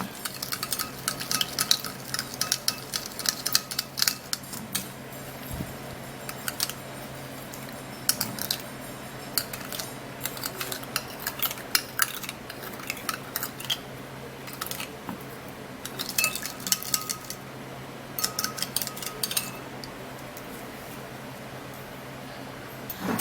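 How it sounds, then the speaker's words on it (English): Sugar and honey mixture with milk being stirred in a bowl, giving a steady run of soft scraping and clicking strokes that continue evenly and close by throughout. "Now I would have to stir it and make sure that it is mixed properly and mixed well."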